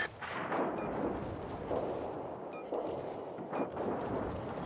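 Heavy naval guns firing in a World of Warships clan battle, a series of deep booming blasts at irregular intervals, some overlapping with rumbling echoes and a few sharp cracks, with no voices.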